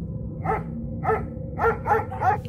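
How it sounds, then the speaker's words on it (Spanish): A dog in the Roblox Brookhaven game barks five times in an irregular rhythm, moderately loud over a steady low background hum. "Ahora entiendo por qué el perro ladra."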